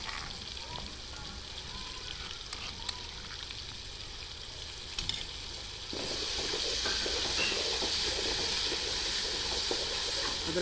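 Ginger garlic paste sizzles in hot oil with a spiced base, a close steady hiss that swells louder and denser partway through as the paste is stirred, and nobody speaks.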